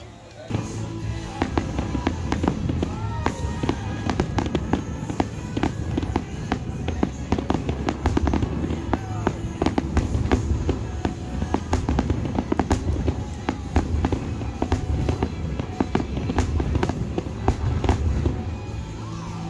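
A night fireworks display at the Dollywood theme park sounds as a dense, continuous barrage of crackling pops and booming bursts, loud and sustained throughout with no talk audible.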